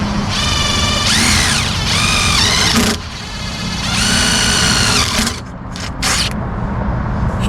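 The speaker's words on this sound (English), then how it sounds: "I'll drill that other one first." A power drill whines loudly while boring holes during a solar panel install on a 48 ft sailboat. Two long high-pitched runs are separated by a brief pause, followed by a few short, clipped bursts at close range.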